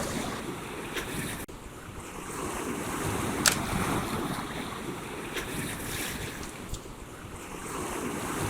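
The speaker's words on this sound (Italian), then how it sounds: "per quanto riguarda il mare sono queste: un mare con l'onda lunga, è un mare in scaduta" Long swell breaking along a rocky coastline as the sea subsides, a continuous surf wash with wind rumbling across the microphone and occasional sharper splashes over steady roar.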